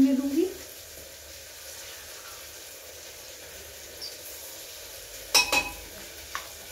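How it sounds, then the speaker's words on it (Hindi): Tomato and spice masala for veg biryani sizzles and is stirred in a pan, a steady low frying hiss with a few sharp clinks of a spoon against the pan near the end. "बाद इसे थोड़ी देर के लिए भूनने दूंगी।"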